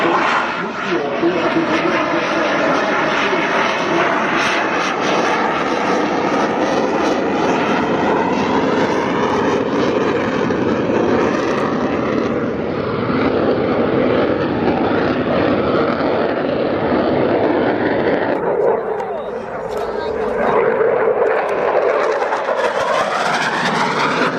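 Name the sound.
military aircraft making a short landing at air show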